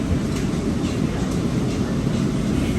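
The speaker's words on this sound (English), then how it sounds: "taking the A train to the far Rockaways. Beautiful ride over the water." New York City Subway A train riding over Jamaica Bay toward Far Rockaway, a steady loud broadband rumble of wheels and car noise heard from inside the train.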